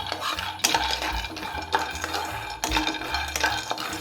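A spoon stirs almonds, dusted with a little oat flour, dry-roasting in a pan over low flame. Close, repeated scraping and clattering strokes against the metal pan, with no talk.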